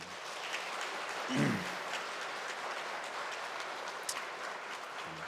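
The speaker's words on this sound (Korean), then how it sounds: "여러분 다시 한번 박수 한번 해보세요" A church congregation claps together after the new women's mission society officers are introduced, a steady, moderately distant wash of hands with a brief voice near the start.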